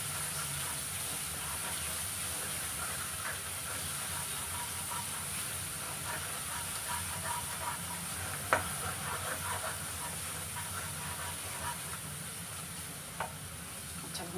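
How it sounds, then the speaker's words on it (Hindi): Dry ground spices sizzling and being roasted in a pan while preparing a kabuli chickpea curry, a steady broadband hiss with occasional faint clicks of stirring, continuous and close, with no talking. "अच्छा भून लेंगे ये भी मसाले,"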